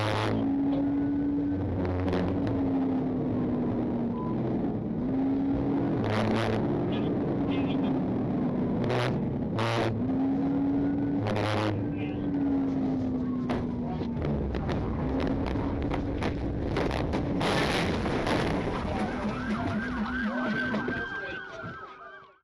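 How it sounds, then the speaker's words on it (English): A police car's wailing siren rises and falls steadily during a highway chase that ends in a PIT maneuver, forcing the fleeing vehicle off the road into a subdivision sign and trees; radio and in-car voices talk over it throughout. "Trooper successfully performed a pit maneuver, forcing the vehicle off the roadway and into a subdivision sign and trees."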